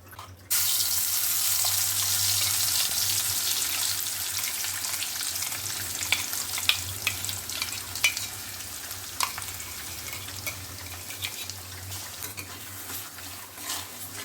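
Onion and coconut paste fries in oil for a Konkan-style chicken curry. The sizzle is loud and steady, with scattered spatters and a few stirring scrapes, and no voices.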